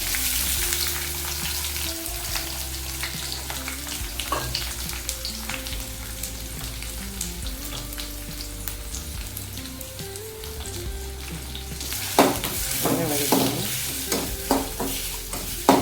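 Chopped onion sizzles steadily in oil with curry leaves and dried chillies as it is sautéed, with occasional scraping stirs growing busier toward the end.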